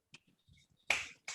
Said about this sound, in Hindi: हम ताली बजाएंगे।